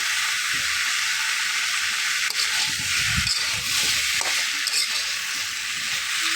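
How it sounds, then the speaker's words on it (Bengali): Eggs and pumpkin fry in oil in a pan for a Bengali egg and pumpkin curry, a steady close sizzle with a few soft scrapes and knocks from the spatula being stirred through. "দেখুন কত সুন্দর ভাজা হয়েছে একটা তেল তেলে ভাব চলে আসছে যে খুন্তিটা আমি একটু দেখে দিচ্ছি"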